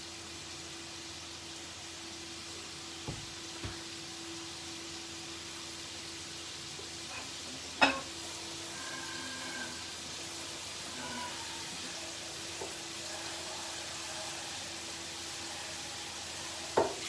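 Mushrooms fry in butter in a pan, a steady soft sizzle with occasional clicks and knocks of a utensil stirring, close and continuous throughout.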